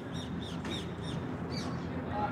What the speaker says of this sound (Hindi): चिड़िया कोयल बोलते हुए, गुटरगू गुटरगू की आवाज़ बीच में आ रही है, चूँ चप्पा की आवाज़ आ रही है।